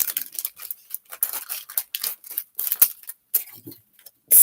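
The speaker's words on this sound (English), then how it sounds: "scissors, of course" Scissors snip through pom-pom material for a pine cone Christmas ornament, giving a quick series of sharp, close cutting clicks with short pauses between them.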